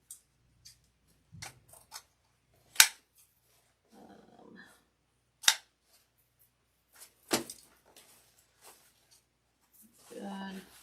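Scissors trim the tails of a deco mesh wreath in a few short, sharp snips and crisp rustles, close but quiet, separated by gaps and soft handling noises.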